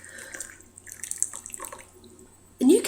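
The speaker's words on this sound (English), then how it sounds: "all you're going to do is just continue to add water as you drink" Water poured onto loose tea leaves in a cup or bowl, a short splashing pour arriving near the end after quiet moments with faint drips and handling noises.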